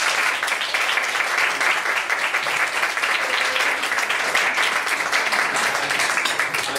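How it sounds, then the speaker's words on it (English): Audience applause for the farm at a raw milk, butter and cream workshop: a dense, even round of many hands clapping continuously for several seconds, with no talking over it. "I think we have a big round of applause for the farm"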